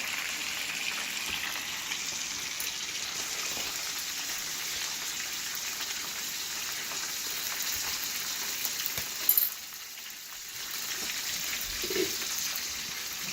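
A stick of butter sizzles and crackles as it melts in a hot pan, a steady hiss of fine spitting that continues throughout with a brief flare and short dip near the end, no voices present.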